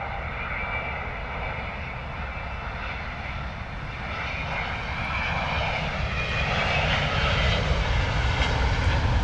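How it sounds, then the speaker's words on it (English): British Airways Boeing 787-10 Dreamliner landing at London Heathrow, a broad roaring jet engine rush that swells steadily louder as the aircraft approaches, continuous and distant to mid-range. "British Airways 787-10 Dreamliner, the biggest Dreamliner in the Dreamliner series."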